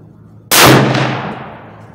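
A single .308 shot from a Ruger American Go Wild rifle with 165 grain ammunition, loud and sharp with a ringing clang off a steel target that decays over a second and a half.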